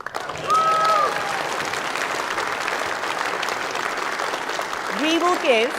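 Loud, sustained applause from a political party spring conference audience fills the clip, a dense wash of clapping with a few whistles rising near the end.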